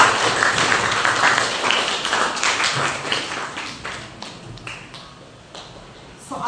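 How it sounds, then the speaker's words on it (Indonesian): A classroom of students claps for a classmate, a burst of scattered hand claps that thins out and fades over several seconds. "Tepuk tangan untuk Najwa."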